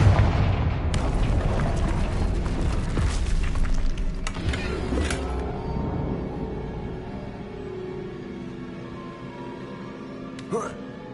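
The Confringo blasting curse in Hogwarts Legacy sets off a loud boom that rumbles and fades over several seconds, followed near the end by a brief sharp crack.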